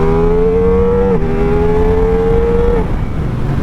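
A 2025 Ducati XDiavel with a V4 engine accelerating hard in sport mode, its loud, close engine note climbing steadily and dropping at two quick gear shifts.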